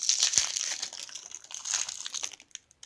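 Crinkling and crackling of a small cellophane wrapper being opened around crackers from a homemade MRE, close and fairly quiet, with a quick sharp snap early on, fading to silence at the end.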